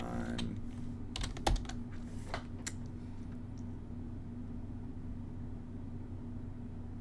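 Computer keyboard typing C# code, a few quick clicks and taps near the start over a steady low room hum, then mostly quiet background.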